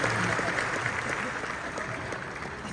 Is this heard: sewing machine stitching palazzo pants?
no